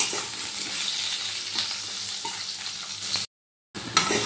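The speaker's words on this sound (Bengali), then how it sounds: "এবার আলুগুলো ভালো করে লাল লাল করে ভেজে নেব।" Potato pieces frying in hot oil with a dense, steady sizzle and faint stirring, cutting out briefly near the end before resuming.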